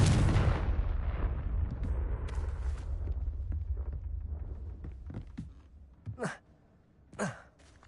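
A Confringo blasting spell erupts in a video game with a loud, booming explosion at the outset that rumbles and slowly fades, followed by a couple of short breathy vocal sounds after the blast dies away.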